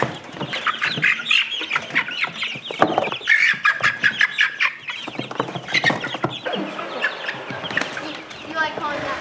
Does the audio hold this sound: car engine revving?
no